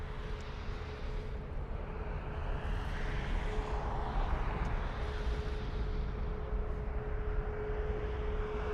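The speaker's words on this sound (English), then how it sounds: "Absolute beautiful sound from them big powerful engines." Big powerful Emirates airliner engines at takeoff at Dublin Airport, a loud steady broadband roar with a sustained droning tone that holds throughout, swelling slightly mid-way, with no voices.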